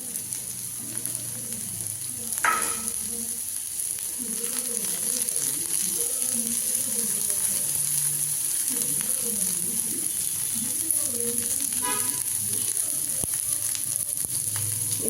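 Vegetable egg dosa cooking on a hot pan, a continuous soft sizzle holding steady throughout, with two brief metallic scrapes and a faint low murmur underneath.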